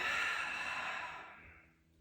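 Deep, breathy exhale during a yoga flow, starting strong and tapering off over about two seconds, close and alone with no talk.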